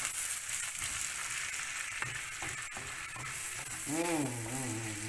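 Chicken thighs cooking in a pan with salt, a soft steady sizzle and bubbling close by, with a brief voice-like warble near the end.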